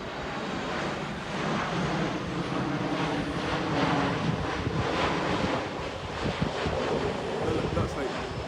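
An American Airlines plane flies in to land near an airport beside a church in Barbados, a continuous broad roar mixed with wind noise and a person talking.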